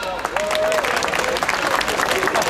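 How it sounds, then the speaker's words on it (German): A short burst of applause from a small group, dense clapping mixed with voices and a few calls over it, lasting only a couple of seconds. "Applaus!"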